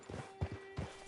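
Horse hooves clip-clop in Red Dead Redemption Online, a few soft, quiet steps at an uneven walking pace against faint background ambience.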